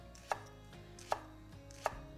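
Three sharp, evenly spaced knife chops through turnips and root vegetables on a cutting board for soup, close and distinct against a quiet kitchen background with music faintly underneath.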